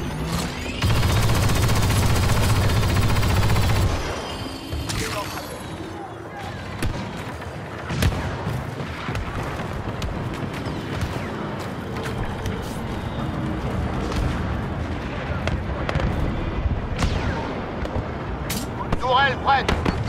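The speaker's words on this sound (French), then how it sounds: "tir de disrupteur ionique lancé" Ion disruptor shots in Star Wars Battlefront II: a heavy sustained barrage at the start, then continuous battle fire and blasts under a voice speaking French.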